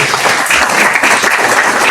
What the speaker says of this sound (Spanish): Démosle un fuerte aplauso, por favor, a la autora del libro